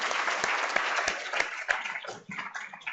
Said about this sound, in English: So clap like hell for yourself.